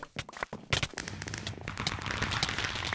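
Rocket fireworks explode repeatedly in the Minecraft video game, a dense run of sharp cracks and bangs that build into a loud, continuous crackling barrage.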